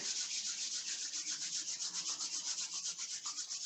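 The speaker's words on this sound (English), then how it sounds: "taking the hands together and rubbing them vigorously" Hands are rubbed together vigorously during a yoga class, producing a fast, even swishing rub of several strokes per second, close and continuous, with no one speaking.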